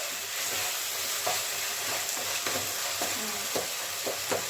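Tomatoes sautéing in a pan for a pepper fry, a steady hiss of frying with a spatula scraping and stirring at irregular intervals, moderately close and with no talk.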